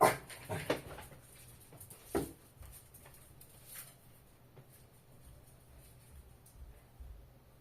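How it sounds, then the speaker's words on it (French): A small dog whimpers and pants indoors, with a few short, sharp sounds early on before it settles into faint, soft breathing and occasional quiet whines. "Il y avait le petit chien."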